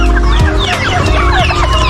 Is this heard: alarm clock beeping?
no